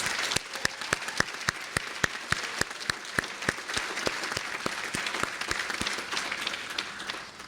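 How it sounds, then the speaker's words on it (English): A commencement audience gives a round of applause, a soft spread of many hands clapping with sharp individual claps standing out in a fairly regular rhythm. "So let's give her a round of applause."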